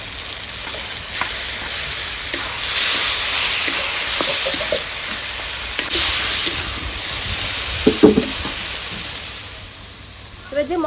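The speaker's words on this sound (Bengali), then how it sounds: "লাল লঙ্কার গুঁড়ো, ভালো করে কষিয়ে নেব। এই বেগুন পোড়াটা দিয়ে দেব।" Spices and roasted eggplant sauté in a hot pan, giving a steady, fairly loud sizzle and hiss that runs through the whole stretch, with a few brief stirring clatters near the end.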